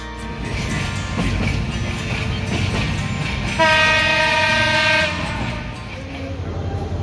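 The Turna Express night train on the Chattogram to Dhaka run rumbles as it leaves a station, then sounds a loud, sustained horn blast of about one and a half seconds before the rolling noise continues.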